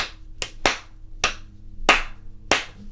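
Hands clap out a guitar strumming pattern in a clear uneven rhythm, six crisp close claps in about three seconds over a quiet room.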